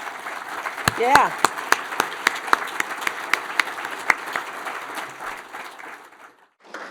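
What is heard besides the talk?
round of applause for board and committee members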